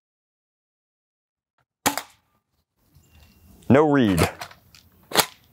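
Venturi dart pistol shooting bamboo-style half-length darts over a chronograph, giving two sharp, loud cracks about three seconds apart, with a brief burst of speech between them.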